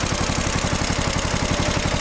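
A small tractor engine with a new muffler idles low and steady, with a rapid regular putter close by.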